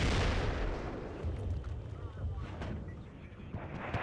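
Repeated gunfire from rifles in the WARNO war game, heavy booming shots over a dense rumbling battle backdrop, with scattered sharper reports and no clear pause between them.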